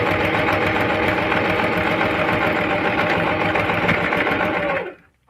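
A Singer Heavy Duty sewing machine stitches fabric in one steady, loud, fast mechanical whir that runs unbroken for about five seconds, then stops abruptly into near silence.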